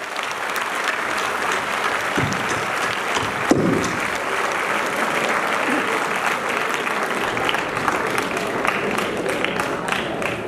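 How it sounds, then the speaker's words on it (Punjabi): Loud, sustained audience applause at a college function, dense clapping from a large crowd filling the whole stretch with a few sharper individual claps standing out. "ਇਹਦੇ ਲਈ ਜ਼ੋਰਦਾਰ ਤਾੜੀ।"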